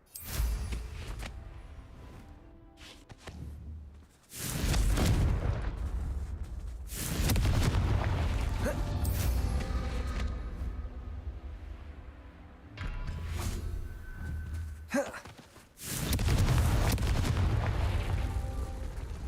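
Confringo fire spell blasts in Hogwarts Legacy, several heavy booming explosions with long rumbling tails separated by quieter stretches.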